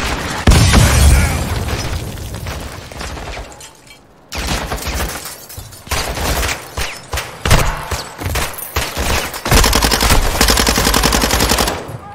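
Call of Duty MW2 (2022) PC campaign combat: dense bursts of automatic gunfire and a heavy RPG explosion, loud and close, with brief lulls between volleys and sustained firing near the end.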